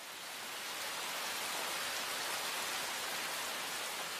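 Light rain falling steadily, a dense, even hiss of drops spread across the whole clip with no voices or other sounds.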